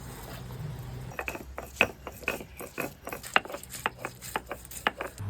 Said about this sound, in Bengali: আদা রসুন আর কাঁচা লঙ্কা তিনটা আমি একসাথেই বেটে নিচ্ছি